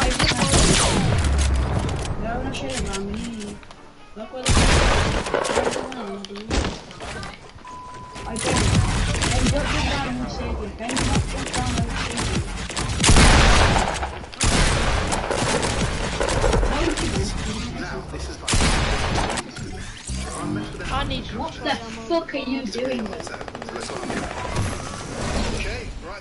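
Gunfire from a Fortnite match, with sniper shots mixed into repeated bursts of shooting, loud and dense across the whole stretch. Players talk over it in places.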